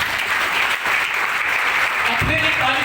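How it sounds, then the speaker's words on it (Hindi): Audience at a talk applauding, a dense, steady wash of many hands clapping loudly throughout, with a brief dip partway through. "अपने एक ताली जोरदार करो।"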